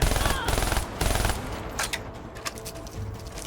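Gunfire in the video game Call of Duty Black Ops 3 sounds as rapid machine-gun bursts followed by scattered single shots, fairly loud and close, with voices talking briefly.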